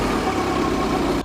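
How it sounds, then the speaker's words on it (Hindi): A car engine runs rough and uneven for a moment as the key is turned, then cuts out abruptly into near silence, loud and close. "उसकी कार का इंजन एक अधूरी आवाज के साथ रुक जाता था"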